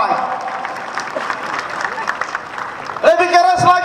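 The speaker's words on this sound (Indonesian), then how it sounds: "Tepuk tangan buat orang Biak yang mata buta dorang." Dense applause from a crowd gathered for a regent's speech marking three years in office, steady and loud, then giving way to a voice and a sharp tonal sound near the end.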